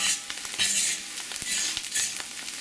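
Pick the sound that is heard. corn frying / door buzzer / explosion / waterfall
corn frying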